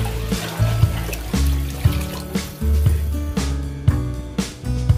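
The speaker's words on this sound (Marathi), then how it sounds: "त्यानंतर जवळपास 5 लिटर पाणी या पातेल्यामध्ये टाकले आहे" About five litres of water streams into a large cooking pot, a close, loud gurgling pour with a deep resonant ring and uneven splashy surges.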